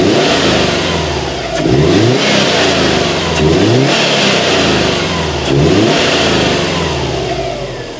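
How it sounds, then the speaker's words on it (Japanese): A Subaru Impreza WRX STI GDB engine with an unequal-length exhaust runs close by, revving up three times in evenly spaced bursts between steady, warmed-up idling. "じゃあちょっとエンジンをもう一回かけて"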